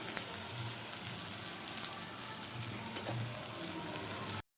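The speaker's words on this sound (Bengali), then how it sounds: "পেঁয়াজটা দিয়ে দিচ্ছি। দেখতেই পাচ্ছেন একদম গরম তেলে আমি দিচ্ছি।" Onions sizzle in very hot oil for a chicken biryani, a dense, steady hiss and crackle that stays close and even before cutting off abruptly.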